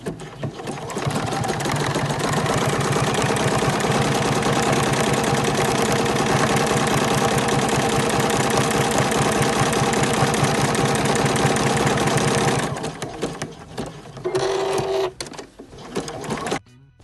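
A sewing machine zigzag-stitches old denim scraps at a short stitch length, running as a loud, fast, steady mechanical whir for about twelve seconds before slowing into brief stop-start bursts.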